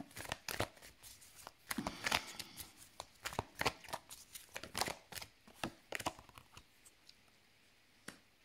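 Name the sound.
tarot cards being drawn and shuffled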